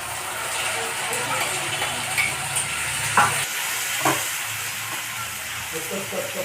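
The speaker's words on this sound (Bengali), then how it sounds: "পেঁয়াজ বাটা দিয়ে কিছুক্ষণ ভেজে নেবো" Onion paste frying in a pan, a steady close hiss and sizzle with light scraping from stirring, continuous and moderately loud with no talk over it.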